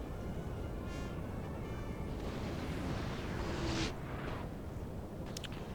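Cannon artillery in Napoleon Total War rumbles as dense, continuous low booms and blasts, layered with bursts of battlefield noise that swell near the end, with no talking over it.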